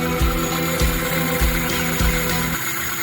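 A car engine fitted with a repaired Solex Weber carburetor idles steadily and close by, throbbing in an even, loping pulse that drops away near the end, with no talking.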